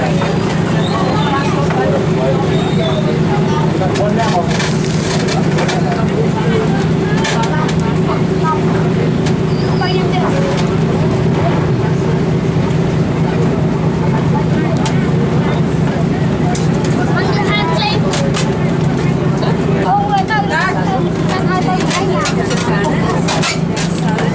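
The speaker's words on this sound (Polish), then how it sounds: "Płyniemy łodzią, której wyposażenie w sporej zasadniczej, jak myślę, części pochodzi z samochodu Hyundai" A motor boat with a Hyundai car engine chugs across Tonle Sap lake in Cambodia, a steady low drone running throughout while a voice talks over it.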